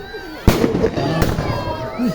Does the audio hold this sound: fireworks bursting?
yes